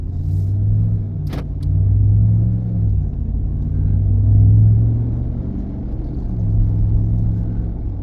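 Ram 1500 DT fitted with a Flowmaster dual mode muffler, heard from inside the cab with windows up while driving: a steady low exhaust drone and road rumble that swells and eases gently, with a brief metallic jingle near the start.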